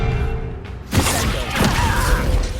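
A Bombarda blasting spell goes off in Hogwarts Legacy, a sudden loud burst with a dense crash of debris after a quiet stretch of game ambience, a second thud following a moment later.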